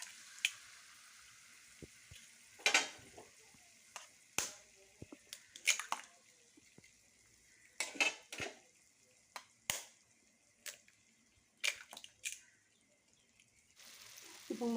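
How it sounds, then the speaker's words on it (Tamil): Eggs are cracked and poured into a hot pan, giving a faint steady sizzle broken by a series of sharp clicks and crackles spread irregularly across the clip. "இந்த முட்டையை உடச்சி இதில் ஊற்றிக்கலாம்"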